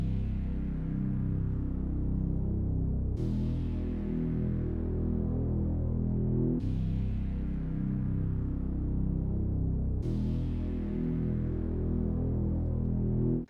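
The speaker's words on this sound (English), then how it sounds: "last thing I added was this bass from my 2K kit" Deep bass sample from a 2K drum kit, four long booming notes, each struck about every three seconds and decaying slowly, heavy and sustained with no other sounds.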